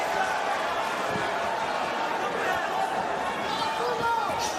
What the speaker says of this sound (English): The Cuba chant comes up from this sold-out crowd.